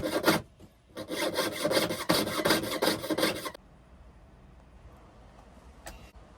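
A jeweller's saw rasps rapidly through silver sheet to cut out a soldered setting for an opal, a loud, steady run of back-and-forth strokes for about three seconds that then stops, leaving quiet room tone with a faint tap.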